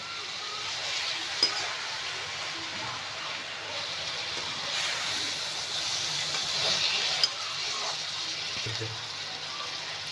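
Vegetables with eggplant fry in a pan with a steady, loud sizzling hiss that holds through the whole stretch, punctuated by a couple of sharp clicks of a utensil against the pan.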